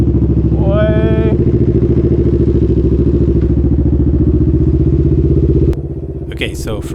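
A Can-Am Ryker with an RLS exhaust runs close by with a loud, steady rumbling idle, then drops a little quieter near the end as a brief voice and a clatter come in.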